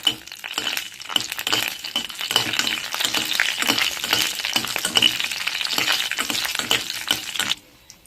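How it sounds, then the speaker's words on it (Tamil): Dried red chillies fry in hot oil with a crackling, popping sizzle and rattling stirs against the pan, running steadily before cutting off abruptly near the end. "நல்லா வறுத்து விட்டுக்கலாம்"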